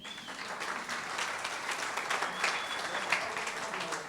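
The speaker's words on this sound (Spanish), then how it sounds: "denle un aplauso a los actores" A church congregation gives sustained applause for the actors, a dense, even clapping that holds steady, with a few faint whistles heard over it.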